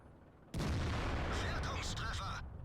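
A Jagdtiger tank destroyer fires its main gun in World of Tanks: one sudden, heavy, close blast after quiet, then a sustained roaring tail, with faint talk over it.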